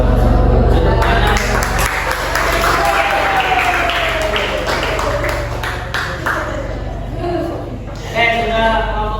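Audience in a classroom-style session clapping steadily through the whole stretch, fairly loud, with a crowd murmur and voices running underneath the applause.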